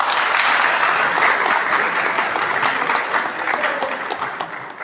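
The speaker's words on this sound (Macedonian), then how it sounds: "еден голем аплауз за вас." Loud, dense applause from a crowd at an International Roma Day community event, steady clapping filling the whole stretch and easing slightly toward the end.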